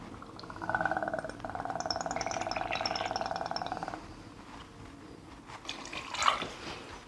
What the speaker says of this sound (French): on va prendre donc son verre doseur et on va venir y poser 4 centilitres de Jäger